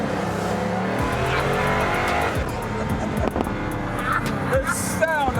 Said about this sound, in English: that's an engine sound that shouts, we're going fast, we're going fast, we're going fast.